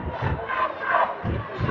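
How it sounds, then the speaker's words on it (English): Basketball crowd at a Connecticut high school state playoff game between ND Prep and Farmington, cheering loudly in surging waves, close and full, with no talk. "The crowd's getting back into it."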